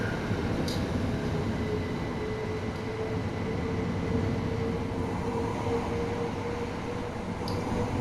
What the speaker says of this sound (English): Today's train will be a Class 377 Electrostar, a very nice choice for the journey.